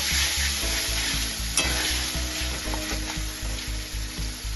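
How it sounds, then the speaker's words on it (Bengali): Steady, loud sizzling of a paste of ginger, onion, garlic and dried chilli frying in oil, with rhythmic scraping and stirring strokes against the pan, close and continuous without talk. "আদা পেঁয়াজ রসুন আর শুকনো লঙ্কা বাটা যেটা বেটে রেখেছিলাম সেটা আমি বড় চামচে দু চামচ দু থেকে তিন চামচ দিয়ে দিলাম"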